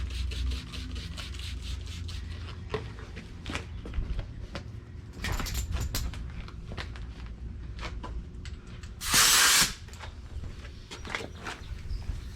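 Compressed air hisses into a tire on a Chevy Silverado wheel to seat the bead, a loud burst of about half a second standing out from scattered rubbing and knocking handling noises.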